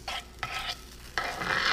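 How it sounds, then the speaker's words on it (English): Garlic sizzles in oil in a cast iron skillet, with bursts of crackling as it is stirred, rising into a steady frying hiss toward the end. "You hear that sizzle, so you know your"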